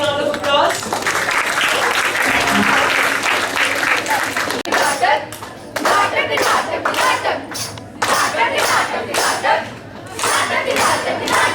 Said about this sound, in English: let's again give them a big round of applause